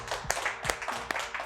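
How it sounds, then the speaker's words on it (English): A few quick claps at a morning sales meeting, three sharp hand claps spaced apart over a low room murmur, close and fairly loud. "Give him a quick clap."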